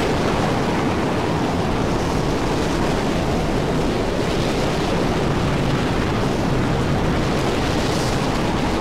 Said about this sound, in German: Das ist ein bisschen windig.